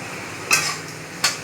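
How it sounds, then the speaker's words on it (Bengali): Prawns fry in a wok beneath a steady low sizzle, broken by two sharp metallic clinks of a utensil against the pan. "চিংড়িটা আমি ভাজছি কীভাবে দেখো, কড়াকে একটু ভালোভাবেই ভাজছি"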